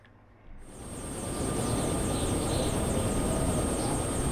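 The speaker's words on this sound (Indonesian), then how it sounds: "Helikopter." A helicopter flies in the video game Yakuza Kiwami, a steady whirring engine and rotor drone that swells in after a quiet start and holds loud and continuous throughout.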